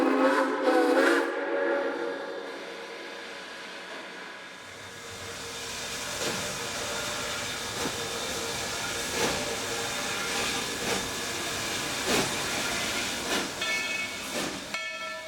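Texas State Railroad train number 300 pulls away from Jarvis with a steady rumble, hissing steam and a repeating chuff, a whistle-like tone at the start, near and moderately loud.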